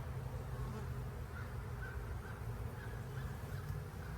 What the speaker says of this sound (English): It's got a lot of bees on it.